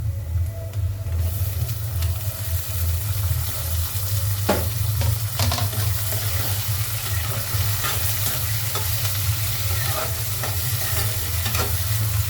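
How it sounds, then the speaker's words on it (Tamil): Garlic sautéing and being stirred in a pan, a steady close sizzle with scraping stir strokes throughout, no talking. "பூண்டை சேர்த்துக்கணும் நல்லா வதக்கிக்கலாம்"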